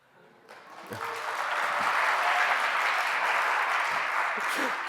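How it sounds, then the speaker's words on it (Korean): Applause from a church congregation during a talk, starting after a short silence and swelling into full, sustained clapping from many hands, with a few dull thumps mixed in. "억지로 박수 받아서 너무 좋은데"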